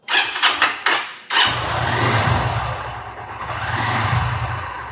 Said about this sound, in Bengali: বাইক স্টার্ট দেই অনেকদিন পরে বাইক স্টার্ট দিব